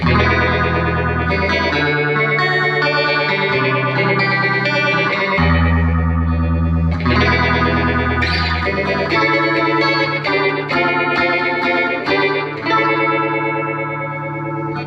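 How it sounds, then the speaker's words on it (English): Electric guitar through an MXR Phase 95 phaser pedal cranked all the way up, chords and notes wobbling and warbling with a swirling, slightly distorted tone, played alone with no talking. "if you crank this pedal all the way up, you can get some pretty warbly sounds"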